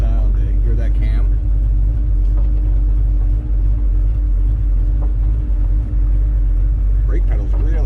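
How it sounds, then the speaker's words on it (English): A 1965 Ford Falcon idles and rolls slowly over gravel, its lumpy cam giving a deep, steady rumble close by, with someone talking over the engine at times. "Oh, what a sound! Eh? Hear that cam?"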